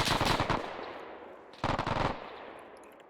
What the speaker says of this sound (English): Someone brought a machine gun over.